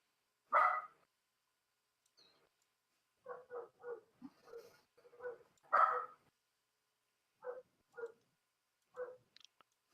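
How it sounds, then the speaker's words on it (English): A lab and pit bull mix dog barks outdoors at night in short clustered bursts, a couple of louder single barks followed by quicker repeated yaps with quiet gaps between. "She been barking all night."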